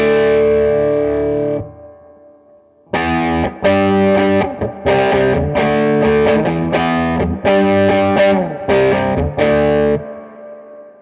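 Electric guitar through a Mosky Audio LM741 overdrive pedal in boost mode with gain halfway: a held distorted chord, a pause, then a loud run of rhythmic chopped chords ending in a ringing sustain, slightly muffled in tone.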